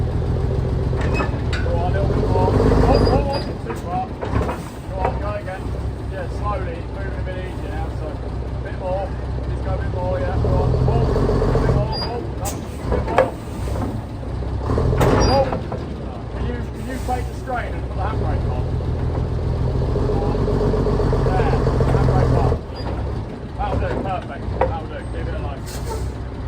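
A Chieftain tank's diesel engine, started for the first time in 20 years, rumbles loudly and unevenly with bursts of revving and chuffing as people talk excitedly nearby.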